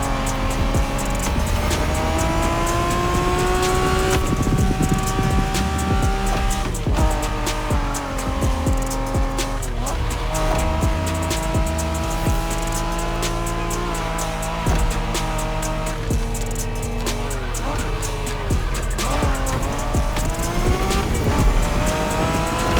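Engine of a Honda NSX, a 1990s sports car, driven in the racing video game The Crew Motorfest: a continuous loud engine note rising and falling through gear changes, with tire squeal, and no talk.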